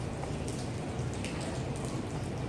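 Steady rain falls in Madrid, a dense, even hiss of drops hitting surfaces with no voices.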